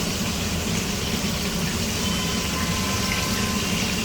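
Chicken pieces fry in hot oil for KFC-style chicken, giving a dense, steady, close sizzle with no talking.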